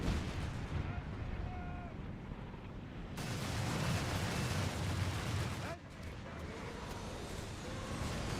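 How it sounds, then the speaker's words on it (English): Nebelwerfer rocket artillery firing in a World War II strategy game, a dense continuous roar of launches and explosions filling the whole clip, with a brief drop in intensity partway through. "More Nebels firing."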